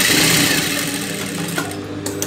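Sewing machine stitching a silk skirt for a small child, a rapid continuous mechanical whirr that runs steadily and softens slightly toward the end, with a few light clicks and no speech.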